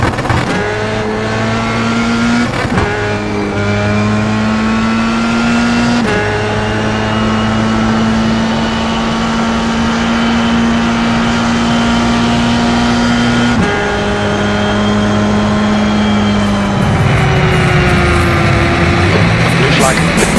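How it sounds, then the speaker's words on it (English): Formula 3 race car engine at Watkins Glen droning loud and steady with gear shifts and shifting pitch, nearing and then fading as another car passes, with a commentator talking over it. "Car approaching, stay behind the line."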